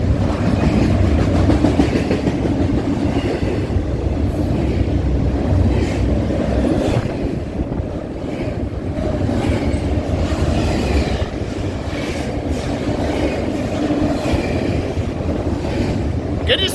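A freight train hauling containers rolls past a railfan spot in Colton or Fullerton, a loud, steady rumble and clatter of wagons that holds close for the whole stretch with no break.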